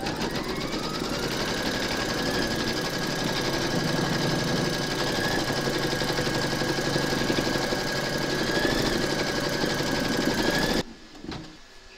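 An embroidery machine stitching an appliqué tack-down round on hooped fabric, running in a steady, loud, rapid mechanical chatter for about eleven seconds before stopping abruptly, with no talking.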